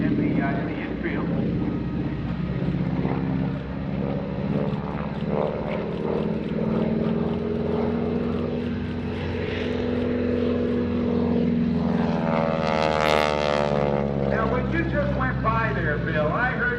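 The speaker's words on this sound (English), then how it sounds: "That's the propeller tips because the top's so long, the top tips go supersonic" Pratt & Whitney radial-engine aerobatic plane at an airshow, propeller tips going supersonic: a loud, steady droning roar with harmonic buzz that swells and rises in pitch near the end, heard over an announcer talking.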